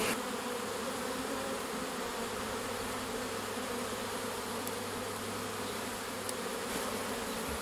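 A large honeybee swarm hums steadily at a hive entrance, a dense, continuous buzz of many bees at fairly close range with no voices over it.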